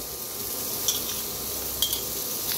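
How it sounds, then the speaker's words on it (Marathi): Onion frying in the same pan that just fried eggs for an egg curry, a dense, even sizzle close by with a couple of faint clicks from stirring. "आता ह्याच्यातच कांदा भाजून घेऊया"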